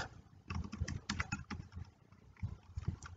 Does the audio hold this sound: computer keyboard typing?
yes